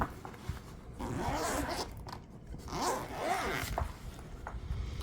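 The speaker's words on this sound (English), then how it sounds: "It's got a nice little rubberized handle, a zipper pouch" A zipper on a massage gun carry case is pulled in a few short strokes, a raspy zipping sound up close, with soft handling noises between pulls.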